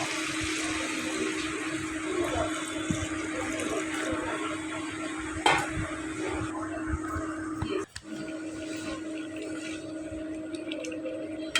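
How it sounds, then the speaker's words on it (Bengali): Water pours steadily into a pot of braised chicken being cooked for biryani, a continuous close splashing flow with a brief clunk midway and a short dip near the end. "এবার এর ভিতরে আমি দিয়ে দেব পরিমাণ মতো পানি"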